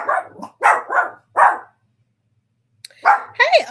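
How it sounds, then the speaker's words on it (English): Several dogs bark in loud, close bursts, four quick barks followed by a pause and then two more yelping barks, with no talk over them. "Be quiet, puppies."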